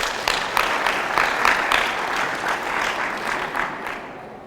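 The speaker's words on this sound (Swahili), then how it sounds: "Wapigie makofi." An audience at a debate contest breaks into sustained clapping, dense and fairly close, holding steady for several seconds before starting to fade.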